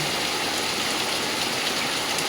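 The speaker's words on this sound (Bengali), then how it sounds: "দেখুন কতটা পরিমাণে বৃষ্টি হচ্ছে আমাদের এদিকে" Steady, dense downpour of heavy rain, a continuous loud hiss of water falling everywhere with no pauses and no voices.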